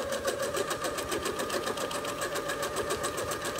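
A quilting sewing machine stitches at a slow, steady pace with its top thread tension set too tight, a continuous even mechanical hum and rapid needle pulse, close and alone.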